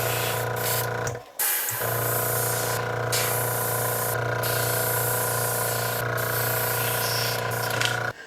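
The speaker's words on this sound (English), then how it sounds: "And you can hear this thing just running constantly almost." A small airbrush compressor runs steadily with a dense hiss and low motor hum, briefly cutting out once before resuming, loud and continuous.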